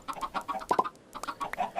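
Chickens in the video game Minecraft cluck in a quick series of short, close calls, with two sharper squawks in the middle and a steady back-and-forth rhythm throughout.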